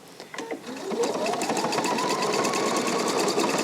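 A Pfaff sewing machine stitches ribbon, starting with a few clicks then settling into a fast, steady mechanical whir and rhythmic needle chatter, close and loud.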